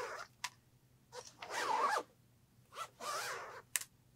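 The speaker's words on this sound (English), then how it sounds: "go ahead and run the zipper a couple of times to get it going" An invisible zipper on a sewn pillow is run back and forth several times, giving short raspy zips in separate bursts, close and quiet, with no talk.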